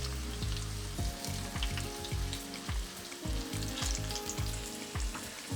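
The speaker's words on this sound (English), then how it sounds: "We'll allow it to brown, nice golden brown in color. Also infusing the oil with the garlic flavor." Bashed garlic fries and browns in hot oil for an egg curry, a steady close sizzle with crackling pops and scraping stirs of a utensil against the pan, no voices.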